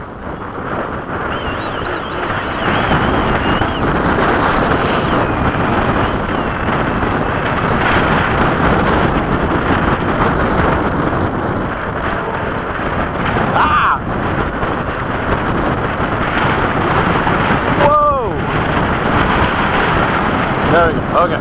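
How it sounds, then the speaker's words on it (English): Strong, sudden wind blows across an airfield while an F-15 taxis out, with a strong crosswind. It is a loud, continuous roar and rumble that stays steady for the whole stretch. "the wind got strong all of a sudden."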